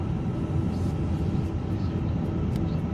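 Airbus A350-900 engine spooling up in Microsoft Flight Simulator 2024, a steady low roar and rumble that holds evenly loud throughout, with faint higher whine above it.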